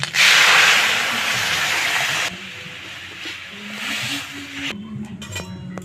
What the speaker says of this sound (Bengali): লাল করে ভাজা হয়ে গেছে, ডাল এখন ঢেলে দিচ্ছি।